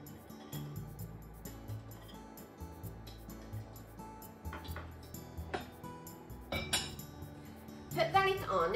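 Eggs set into a pot of just-boiled water with the heat off, giving light clinks and knocks of shell against metal, scattered and faint, with a louder clatter near the end.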